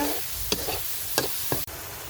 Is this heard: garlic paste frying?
yes